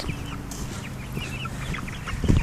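Chickens in a crate cluck and chatter in short, scattered calls, fairly faint and mixed with outdoor wind.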